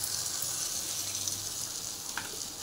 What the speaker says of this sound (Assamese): এইখিনি এতিয়া আমি মাংস ইয়াত দি যাম